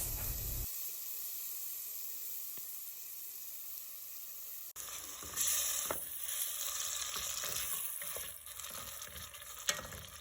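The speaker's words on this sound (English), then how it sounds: "I'm going to add a tad bit more oil and stir until it's crispy." Pork for chile verde frying in a pan with extra oil, a continuous sizzle that abruptly intensifies midway, with stirring scrapes and clinks of the utensil against the pan.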